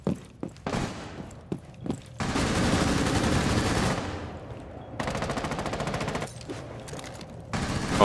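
Rapid automatic gunfire in a shooter video game rattles in long sustained bursts with short pauses between, punctuated by a few isolated shots, loud and close with no voices.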